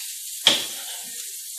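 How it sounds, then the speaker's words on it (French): A steak for a Parisian burger sizzles in a pan, a steady faint hiss with two sharper bursts of crackle as it is moved or turned, close and without talking. "Donc là, la cuisson de mon steak est partie."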